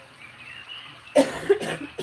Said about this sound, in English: I'm getting over a terrible cough.